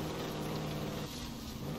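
A tractor engine in the racing game Forza Horizon 4 drones steadily at mid pitch as it drives, loud and close, with a slight dip in pitch near the end.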